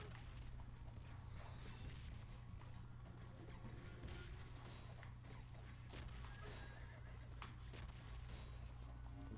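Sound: horse neighing in Knight Squad video game

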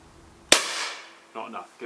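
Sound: shotgun shot at a clay target

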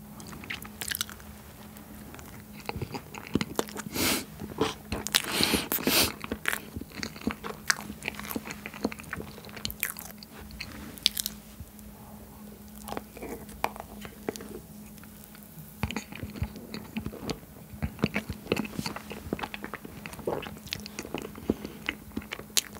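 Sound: chewing spicy Buldak ramen with cheese kielbasa and ice cream

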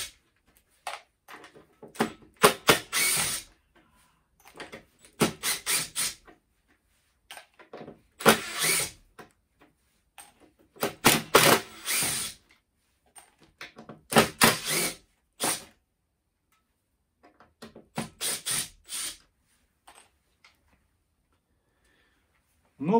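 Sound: Makita DTD153 impact driver driving self-tapping screws

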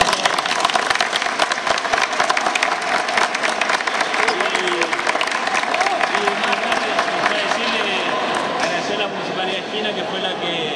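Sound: applause for futsal tournament players

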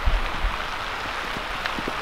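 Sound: heavy rain falling

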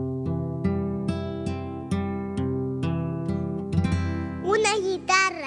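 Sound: acoustic guitar playing

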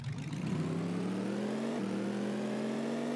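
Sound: Twin Mill III car engine sound in a video game

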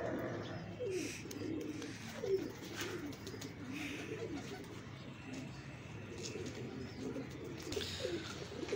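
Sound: pigeons cooing on a rooftop

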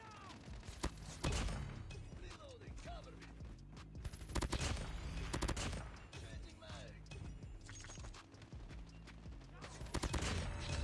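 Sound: gunfire from the Peacekeeper rifle in the video game Call of Duty Mobile

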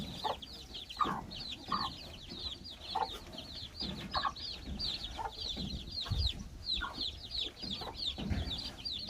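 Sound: hen clucking

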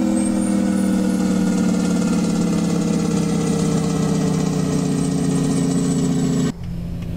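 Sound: Kenworth W900 truck engine brake in American Truck Simulator video game

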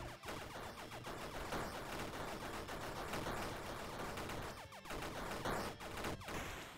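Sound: multiple bullets shooting in Bad Caterpillar arcade video game

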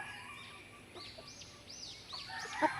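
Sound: native chickens clucking

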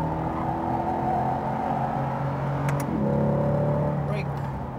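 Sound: Chevrolet Corvette C8 accelerating on track

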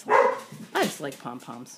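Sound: dogs barking

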